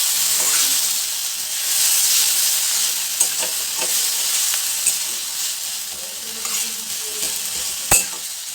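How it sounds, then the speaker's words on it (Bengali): Whole cumin and tomato paste frying in a pan, a loud bright sizzle with hissing steam and occasional scraping stirs and a sharp utensil knock near the end. "এই মশলাগুলোকে ভালো করে কষিয়ে নিতে হবে যতক্ষণ না এগুলোর কাঁচা গন্ধটা যাচ্ছে"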